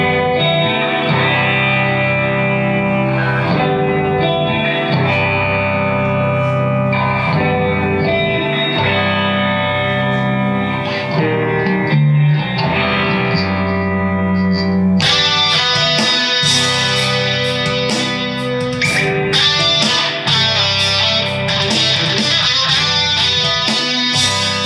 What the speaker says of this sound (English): Here's what the clean tone sounds like, and then the distortion will come in.